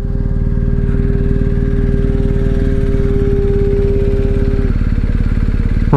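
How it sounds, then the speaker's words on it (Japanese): A BMW R1250GS motorcycle engine runs loud and steady with a deep rhythmic idle throb and no talking. "船の音か、このバイクの音かと思った心に響いてくるサウンド"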